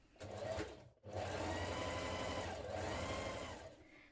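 A sewing machine runs stitching the seam of a hooded jacket, a loud steady whirring drone that stops briefly once and then continues at an even pace to the end.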